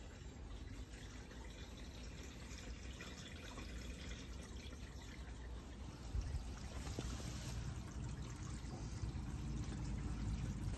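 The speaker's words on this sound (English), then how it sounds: "let's put some water in, see if it leaks." Water pouring steadily into a van's underslung water tank, a continuous close rushing and splashing hiss that swells slightly partway through.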